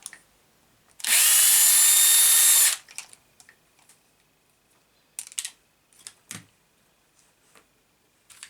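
A power drill spinning out screws while removing a car bumper, one loud continuous whir of about two seconds, followed by scattered light clicks and handling taps of small parts.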